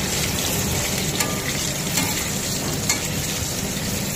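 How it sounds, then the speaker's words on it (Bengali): Salted potatoes fry in oil until browned, producing a dense, continuous close-up sizzle with faint crackles and occasional stirring; no voices. "আলুগুলোকে আমি তেলের মধ্যে লাল করে ভেজে নিচ্ছি"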